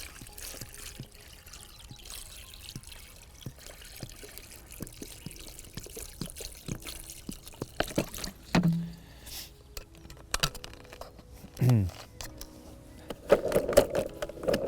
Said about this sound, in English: So I'm just going to add enough water so the baits are almost covered.